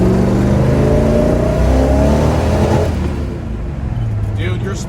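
A 1971 Chevrolet Chevelle with a 454 V8 accelerates hard on a test drive, its loud engine climbing in revs and then easing as the car pulls away.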